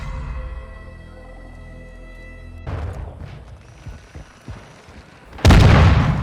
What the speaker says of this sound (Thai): มันปาระเบิดมาจากฝั่งนู้น